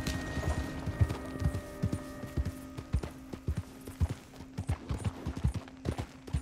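A horse trots in Red Dead Redemption 2, its hooves clopping in an even, steady rhythm close by, with a low hum underneath and no talking.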